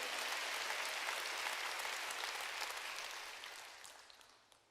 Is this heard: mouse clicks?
no